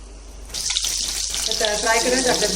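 Okra frying in well-heated oil in a pan, a steady bright sizzling hiss that starts about half a second in and holds close and even to the end.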